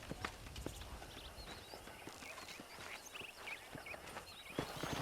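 Horse hooves clip-clopping steadily in Red Dead Redemption, a close, continuous run of uneven beats with faint chirps in the background and no talk.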